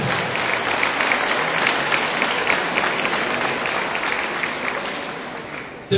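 Dense, steady crowd applause fills the hall at the swearing-in of Tepeojuma's municipal president, a continuous wash of many hands that carries on evenly for several seconds before stopping abruptly.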